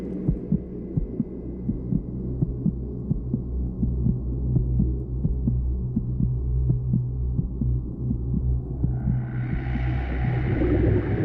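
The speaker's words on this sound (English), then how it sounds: "Are those my heartbeats that I'm hearing?" A steady, muffled human heartbeat throbs in regular pulses beneath a low underwater hum during a deep dive under Arctic ice, with a brighter hiss rising near the end.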